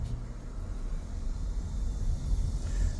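A car cruises along a road during a test drive after a repair to its dark instrument cluster, heard from inside as a low, steady rumble of engine and road noise that swells slightly, with no talk.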